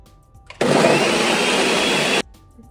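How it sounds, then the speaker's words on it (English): A kitchen blender whirs loudly and steadily for about a second and a half while blending a smoothie with coconut water, starting and stopping abruptly, with no talk over it. "Then you'll close the blender, press it on, and blend it all up."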